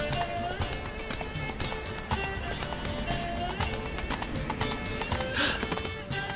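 Roach, Geralt's horse in The Witcher 3, gallops with steady rapid hoofbeats and an occasional whinny, set amid game music and voices.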